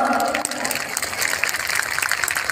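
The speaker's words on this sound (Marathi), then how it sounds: "जोरदार टाळ्यांचा कडकडाट" Dense, steady applause from an audience at a Bhim Jalsa music program in Amravati, a continuous wash of claps at moderate loudness with no pauses, some murmuring faintly underneath.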